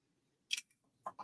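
Scissors snip through poinsettia wreath stems in three quick close cuts, a crisp first snip followed by two softer ones in a quiet room.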